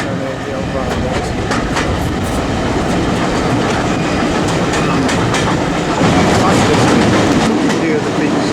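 A train crossing a viaduct in Wales, a loud steady rumble of wheels on rails with faint rhythmic clatter, heard from inside the carriage throughout.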